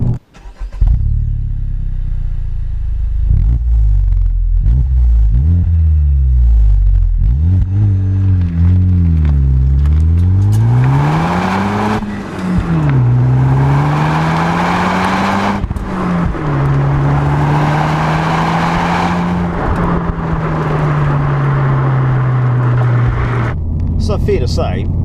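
A 2018 Honda Civic Type R with a triple-pipe exhaust drones loudly while driving, its engine note rising and falling through revs and gear changes, steady and fairly smooth, with no talking over it.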